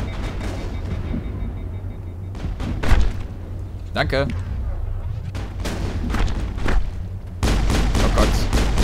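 Gunfire in the Mass Effect video game rings out in scattered bursts and sharp cracks amid a low game hum, with a voice briefly talking over the combat.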